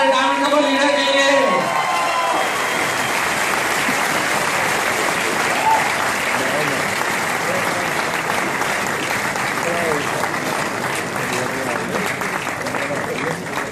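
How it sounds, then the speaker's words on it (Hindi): A large audience bursts into sustained, loud applause for a diamond-level couple of leaders at an Amway Diamonds celebration, the clapping rolling steadily for over ten seconds after a brief moment of voices at the start. "एक जोरदार तालियां हो जाए हमारे डायमंड कपल लीडर के लिए।"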